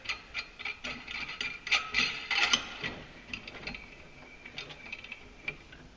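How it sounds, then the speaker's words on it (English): A clutch compression tool is ratcheted down on a 2016 Polaris RZR Turbo clutch, producing a series of close, quick metallic clicks and ratchet ticks in uneven bursts, faint and without any talking. "Slide on the clutch compression tool. We'll tighten this one down a little bit."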